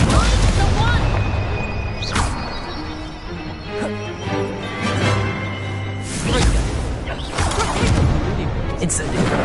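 Spell effects from Hogwarts Legacy combat: a dense run of booms, whooshes and crashing impacts, with bright bursts near two, six and seven seconds over a steady rumble, a voice speaking partway through.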